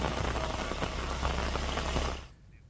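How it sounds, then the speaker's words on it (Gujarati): Steady heavy rain hiss in Ambaji fills most of the clip, dense and close, then cuts off abruptly near the end, leaving near silence. "અંબાજીમાં પણ વરસાદ થઈ રહ્યો છે"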